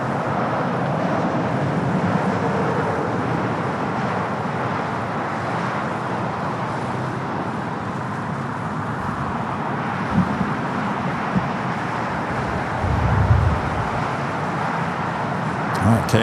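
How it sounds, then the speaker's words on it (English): A KLM airliner rolls down runway 24 left at LAX, heard as a steady, broad, distant jet roar that holds for the whole stretch, with a slight low rumble swelling near the end. "KLM now rolling down at 24 left."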